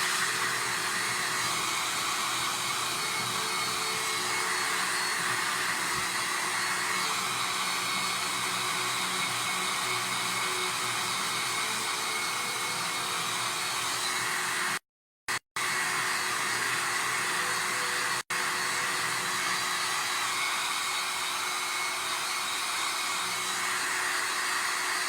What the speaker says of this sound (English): I'm just going to use the hairdryer for a split second.